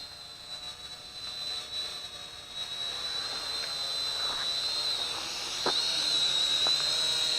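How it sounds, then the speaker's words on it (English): A Syma X5C quadcopter hovers in place, giving off a steady high-pitched whine that grows slightly louder and closer as it holds position, with no talking. "Very stable quadcopter."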